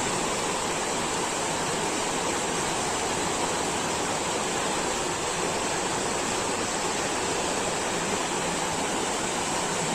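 Floodwater rushes across a muddy diversion road beside a bridge under construction, making a loud, unbroken roar like a river that fills the whole clip.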